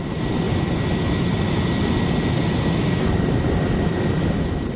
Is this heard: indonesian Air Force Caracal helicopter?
yes